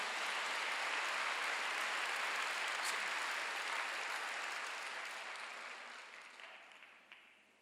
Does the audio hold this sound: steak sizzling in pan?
no